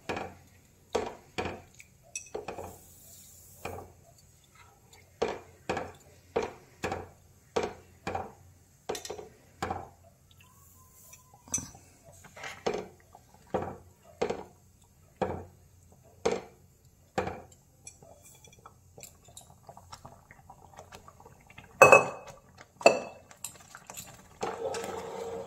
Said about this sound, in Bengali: আর নাড়ছি।